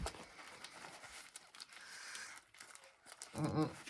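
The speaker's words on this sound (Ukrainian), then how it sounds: "Тому зараз буде розпаковка рослин, котрі відправили." Close crinkling and tearing of paper packing and tape as a parcel of succulent plants is unpacked, in short irregular bursts.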